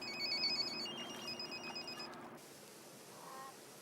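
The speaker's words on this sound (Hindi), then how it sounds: "ये किसका मोबाइल बज रहा है?" A mobile phone rings with a repeating electronic ringtone for about two seconds and then cuts off, leaving quiet room tone with a faint later blip.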